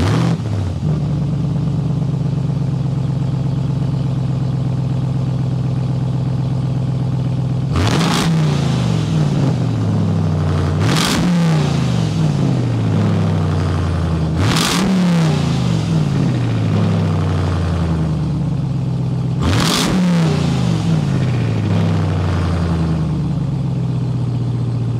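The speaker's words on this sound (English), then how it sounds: "we have to hear that exhaust note before we get to these engine specs" A supercharged 2021 Ram TRX Hennessey Mammoth 900 truck engine idles with a deep rumble, then revs hard four times in sharp bursts, each roar falling back to a loud burbling exhaust idle.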